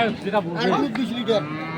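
A cow moos at a busy village cattle market in Dinajpur, a drawn-out bellow close by with people talking around it.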